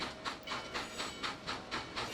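A train rolls through a curve on the B-line toward Front Royal, Virginia, near Wellington Road, its wheels giving a steady, rhythmic clickety-clack about four beats per second over a constant hiss of rail noise.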